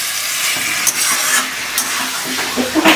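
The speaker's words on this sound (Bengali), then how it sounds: "এবার এটা ভালো করে মাটনের সাথে যত ভালো মতন কষানো যাবে" Mutton sizzles and crackles in a hot pot while a utensil stirs and scrapes it, a steady frying hiss with occasional clinks, no talking.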